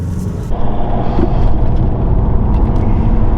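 A VW T25/T3 Vanagon camper van drives along with a loud, close engine rumble and road noise that holds steady throughout.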